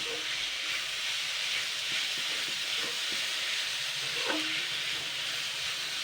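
Chopped onion is stir-fried with boiled vegetables in a pan, giving a soft, steady sizzle and hiss under faint scraping of the spatula as the pan is stirred.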